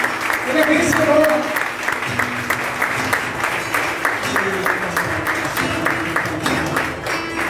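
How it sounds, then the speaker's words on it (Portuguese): A church congregation at a Sunday evening service applauds, with sustained, dense clapping from many hands filling the room and voices calling out beneath it. "Vamos aplaudir o nome do Senhor Jesus nesta noite"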